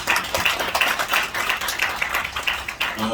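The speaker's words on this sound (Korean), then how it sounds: "다시 한번 큰 박수 부탁드립니다." Sustained applause from a large audience at a national YouTuber rally held by Pastor Jeon Kwang-hoon at Sarang Jeil Church, a dense, steady patter of many hands clapping close by, with no voices over it.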